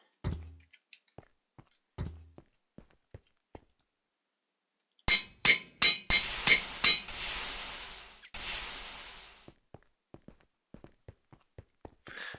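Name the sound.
forge hammer machine in a video game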